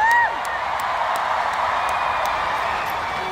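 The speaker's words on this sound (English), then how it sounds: "Another big round of applause" A large crowd at a concert tour stop in Bulacan gives sustained applause and cheering: a steady, distant wash of clapping and crowd noise after a brief opening burst, with faint high whistle-like cheers rising above it.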